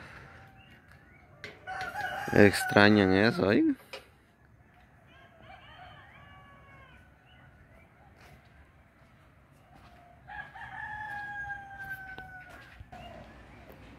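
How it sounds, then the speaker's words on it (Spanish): A rooster crows loudly up close for a couple of seconds in the countryside at dawn, with quieter crows and bird calls later; a person speaks briefly in between. "para que oyeran cómo cantan los gallos"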